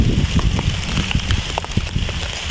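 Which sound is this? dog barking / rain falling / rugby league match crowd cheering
rain falling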